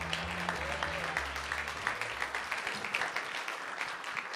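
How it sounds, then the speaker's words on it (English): A comedy club audience claps steadily and fairly loudly at a stand-up show, the applause dense and even throughout, with a few low voices briefly mixed in near the start. "Clap harder, sir."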